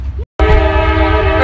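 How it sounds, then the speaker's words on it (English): A loud train roars close by outside a Dave and Buster's, its horn blaring a sustained steady tone over heavy rumbling, after a brief cut in the sound. "there's a loud ass train"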